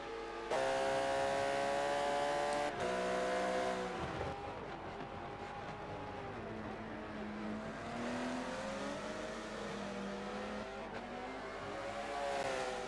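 An Aston Martin GT race car on a circuit straight, its engine whining loudly as it passes, pitch sliding and shifting with gear changes, other cars droning behind with no talk.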